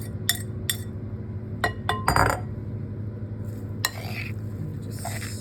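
Shredded apples are stirred into a cornstarch and egg mixture in a glass bowl, giving scattered close clinks and scrapes of a utensil against glass, with short bursts and quieter gaps between.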